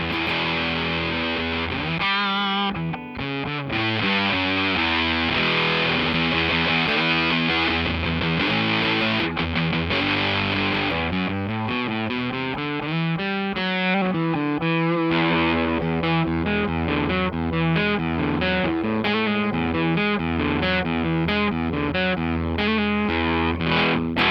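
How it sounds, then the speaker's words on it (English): Heavily fuzzed electric guitar plays continuous chords and riffs, thick and saturated, with no voices. "Let's hear some fuzz."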